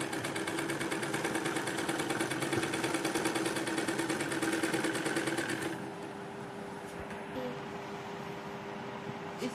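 A sewing machine stitches a lined kurti with a steady, fast mechanical whirr, running loud and continuous before dropping to a quieter hum for the last few seconds; no one talks.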